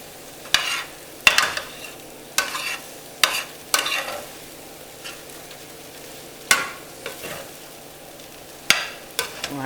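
Shrimp fried rice with broccoli being stir-fried in a pan, a spatula scraping and folding in irregular strokes over a soft continuous sizzle, close and fairly loud, with no talk.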